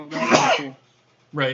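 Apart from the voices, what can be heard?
sneeze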